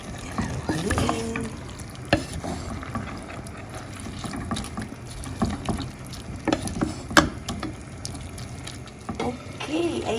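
Green beans with mushrooms and shrimp stir-fry in a pan, a steady sizzle broken by repeated scraping and clattering of a spatula, close up with faint talk in places.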